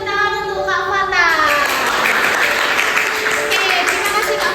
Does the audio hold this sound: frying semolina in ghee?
no